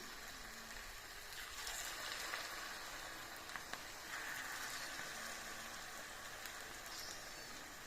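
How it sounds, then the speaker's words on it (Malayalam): Papaya and egg fritters sizzle in hot bubbling oil, a steady close crackle and hiss with brief louder pops of spattering, no one speaking. "മുട്ട ഇട്ടതുകൊണ്ടാണ് ഇങ്ങനെ എണ്ണ പൊന്തി വരുന്നത്"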